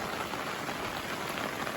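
Steady rain falls in a Samahni valley village in Azad Kashmir as a continuous dense hiss of drops on surfaces, fairly faint and unbroken throughout.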